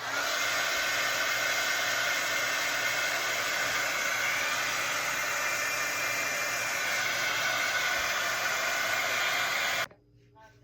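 Hair dryer blowing on freshly painted red stripes of a thrifted wooden cross being decorated, a loud constant close whoosh running steadily for nearly ten seconds before cutting off abruptly.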